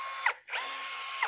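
A cordless drill with a 13 mm chuck whirs steadily and close by, its motor cutting out briefly once before spinning up again, with a ratcheting click at each start.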